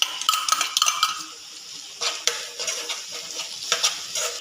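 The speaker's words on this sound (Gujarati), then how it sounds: "હવે તેમાં ડુંગળી નાખી દઈશું।" Onion is added to garlic-chili paste that is frying in a pan. A soft sizzle plays under repeated stirring scrapes, close and fairly quiet, with no voices.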